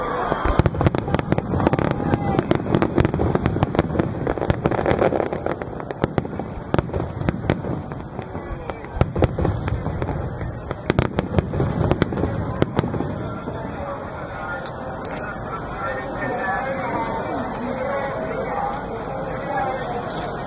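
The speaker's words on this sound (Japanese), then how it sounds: "仕掛け花火とスターラインでございました" Rapid crackling bursts and pops of a set-piece and starline fireworks display at the Atsugi Ayu Festival, with sparkling effects, dense and continuous at first, then thinning as a crowd murmurs underneath.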